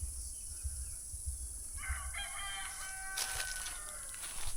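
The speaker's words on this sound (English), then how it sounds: "And that is a rooster." A rooster crows once, moderately loud over steady background hiss, the drawn-out call rising then trailing off; a few soft clucks come before it.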